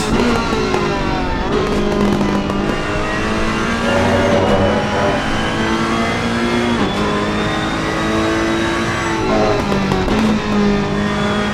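Two Ferrari GT3 race cars battle closely at Imola in a sim racing game, engines roaring loud and continuous with rising and falling revs through gear changes and occasional tire squeal.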